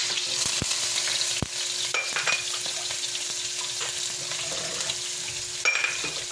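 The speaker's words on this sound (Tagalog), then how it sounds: "magigisa ng ating bawang" Garlic and onion sautéing in a hot pan for pork adobo, a loud continuous sizzle with occasional stirring scrapes and a few sharp knocks.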